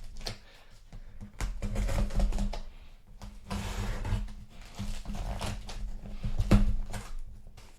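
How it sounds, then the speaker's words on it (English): A blade slices through packing tape on a sealed box holding vintage Commodore computer gear, giving a run of close, scratchy cuts and rustling tears, steady and continuous. "I'm literally cutting into this tape."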